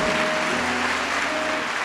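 Congregation applauding during a church sermon, a steady dense wash of clapping filling the whole stretch without letup, with faint voices mixed underneath.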